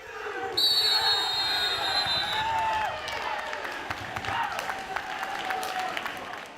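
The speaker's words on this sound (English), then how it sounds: "You can hear the cheers from the home crowd" Home crowd cheering and applauding at a high school wrestling match after an overtime takedown victory, a sustained roar with clapping and shouts in a gym, with a whistle-like tone early and a voice talking over it.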